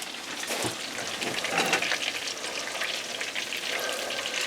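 Breaded pork meat sticks frying in very hot oil, a dense steady sizzle and crackle that runs close and continuous throughout, with no voices.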